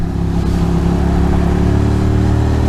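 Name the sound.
Monster motorcycle riding at speed on wet NYC streets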